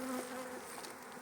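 Close, faint buzzing of honey bees at a beehive, a steady insect drone with no voices.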